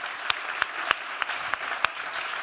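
Sparse, steady applause from a small keynote audience at a digital festival, individual claps landing in a regular rhythm over a soft wash of clapping, no voices.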